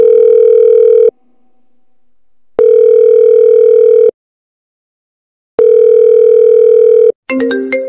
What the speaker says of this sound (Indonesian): Aku coba telepon si Om deh.